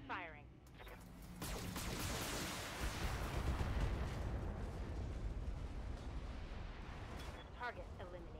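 Weapon fire from a mech in the BattleTech video game, a long loud rumbling barrage of blasts and explosions sustained for several seconds, with brief radio voices at the start and end.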